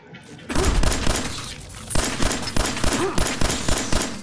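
Rapid gunfire in Fallout 4, bursts of shots firing in uneven volleys close up, with a brief voice cry under the shooting.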